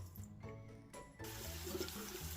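Running water pours steadily into a pot of bean-cooking broth, a continuous splashing rush that grows fuller partway through.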